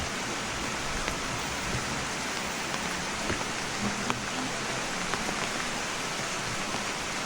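Steady rain falls in a dense, even hiss across the whole stretch, with occasional drops standing out faintly; no one speaks.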